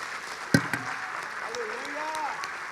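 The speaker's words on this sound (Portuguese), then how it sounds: "pode aplaudir ao Senhor" A church congregation clapping, a faint, diffuse patter of hands that starts with a sharp burst, while voices and singing-like calls carry over it.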